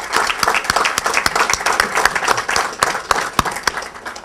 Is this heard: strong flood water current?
no